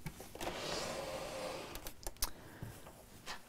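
A sewing machine stitches the top seam of a box cushion cover, giving a short, close motor whir followed by soft clicks and fabric handling, all fairly quiet.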